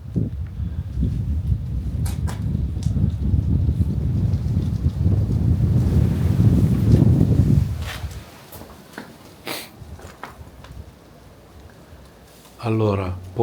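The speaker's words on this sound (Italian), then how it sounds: "Allora, può essere il vento." During a paranormal investigation, wind buffets the microphone as a deep, blustery rumble for about eight seconds, then drops away to near quiet, leaving a few faint knocks and a brief voice at the end.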